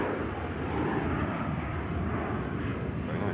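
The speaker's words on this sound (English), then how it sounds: "Very nice bizjet." A three-year-old Falcon 900LX business jet at Manchester Airport produces a steady, loud engine roar that fills the whole stretch without pause, with no talk over it.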